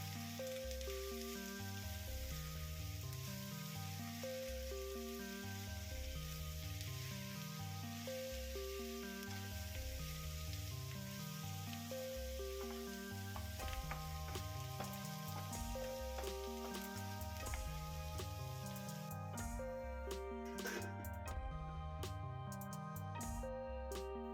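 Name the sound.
bitter gourd with turmeric cooking covered in pan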